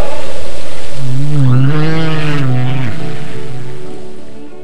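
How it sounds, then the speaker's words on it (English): A humpback whale song: a long, rising and falling moaning tone with rich harmonics, loud and close, fading out as it ends. "With their breathtaking breaches and captivating songs, some lasting up to 33 minutes, humpback whales are truly remarkable."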